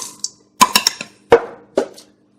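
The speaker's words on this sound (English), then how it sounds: "I'm going to release the lock on this mixer and dump the chips in" Chocolate chips poured from a container into a metal stand mixer bowl, heard as a few sharp rattling clatters in quick clusters, close and without talk.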